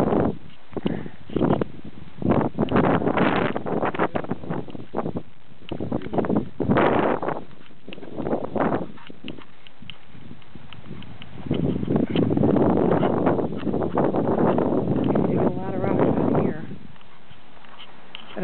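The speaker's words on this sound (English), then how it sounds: "It's going to sound very windy." Wind blowing across a breezy ranch hilltop, loud gusty buffeting of the microphone in uneven bursts with rustling, close and rough, quieter lulls between gusts.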